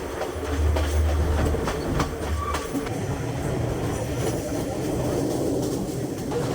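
Ella to Kandy passenger train in Sri Lanka running along the tracks, a continuous loud rumble with rhythmic clickety-clack of wheels over rail joints and occasional squeal, heard from aboard throughout.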